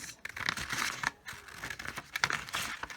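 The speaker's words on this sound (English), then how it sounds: "take a pair of scissors and cut up the middle long ways" Scissors snip up the middle of a folded paper sheet for a concertina book, a run of close crisp crinkling cuts with brief pauses between strokes.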